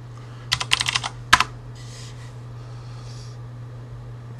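Typing a command on a computer keyboard in Ubuntu, a short burst of quick, close key clicks followed by one firm tap, then soft fainter clatter over a low electrical hum.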